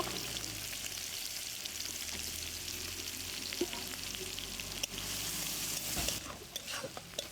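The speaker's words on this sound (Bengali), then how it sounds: "পেঁয়াজগুলো এখন দিয়ে দেবো, দিয়ে লাল লাল করে ভেজে নেব, ব্রেস্তা করব।" Onions frying in hot oil in a wok for a fish kebab, a steady loud sizzle running throughout with occasional stirring scrapes and a brief burst of brighter crackle near the end.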